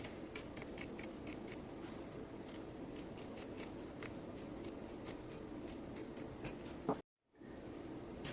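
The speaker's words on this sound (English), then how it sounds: "So I'm going to trim off this circle that's a little bit big." Scissors snip steadily around a fabric circle for a small zipper pouch, giving a rapid series of close, crisp blade clicks and cuts over a soft background hiss, followed by a short break near the end.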